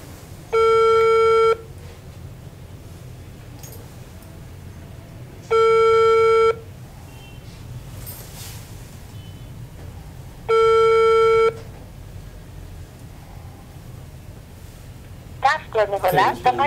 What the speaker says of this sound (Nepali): रञ्जनाजीलाई फोनको घन्टी गएको छ, कारणवश उठेन